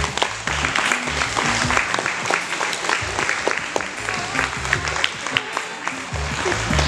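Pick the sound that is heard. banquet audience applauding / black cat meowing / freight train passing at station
banquet audience applauding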